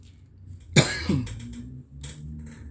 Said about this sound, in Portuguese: Vocês me permitem um segundo que eu vou pegar um copo d'água, porque já comecei a tossir.